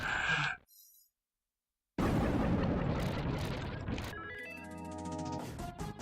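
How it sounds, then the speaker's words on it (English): A boss blows up in the shoot-'em-up game Axelay: after a brief silence comes a sustained, roaring explosion burst lasting a couple of seconds, followed by a tonal game jingle. "Really nice explosion to go and finish things off there."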